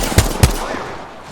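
Gunfire in the Apex Legends video game comes as two sharp, punchy shots about a quarter second apart, followed by a fading tail of echo and faint background noise.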